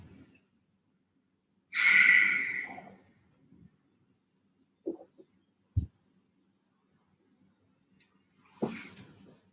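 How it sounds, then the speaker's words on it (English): Slow yoga breathing while lying on the side in a fetal-like position: one long, breathy exhale near the start and another near the end, with faint soft clicks and near silence between. "Draw that breath in and out."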